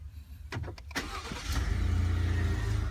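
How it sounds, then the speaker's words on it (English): A 2016 Ford F-150 engine starting by remote start: a few quick cranking pulses, then the engine catches and settles into a steady, close, low idle. "And the car running."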